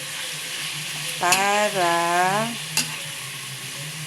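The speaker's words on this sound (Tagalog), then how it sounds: "Siyempre, ipiprito-prito natin" Chicken frying in a pan for adobong manok, a steady close sizzle with a brief stirring scrape, while a voice speaks over it.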